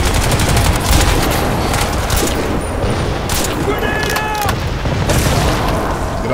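Heavy, continuous gunfire and booming blasts fill a Crysis 2 firefight, loud and sustained throughout with dense overlapping shots.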